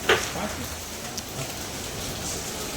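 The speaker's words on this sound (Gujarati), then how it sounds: "ઘડીક નવરા થયા હતા ને ત્યાં આવી ગયો વરસાદ" Rain falls steadily in a continuous, moderately loud hiss across the whole clip, with a faint voice and a few brief knocks heard over it.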